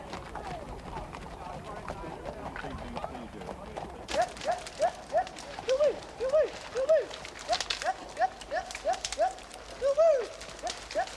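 Horse hooves clip-clop in a steady, fairly close rhythm during a riding hunt, the regular beats carrying on for several seconds with faint background sound and no clear talk over them.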